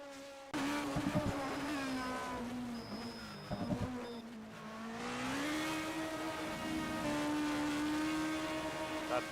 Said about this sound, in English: That acceleration out of the corner.